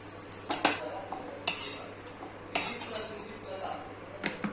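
Fried kochai (taro) is scooped out of a pan into a cooking vessel, with several sharp metallic clinks and scrapes of utensil against cookware against a low steady background hum.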